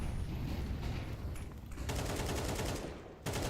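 Dense, continuous gunfire from a Counter-Strike 2 esports match, overlapping shots with no pauses, loud and sustained for the full length with no voices.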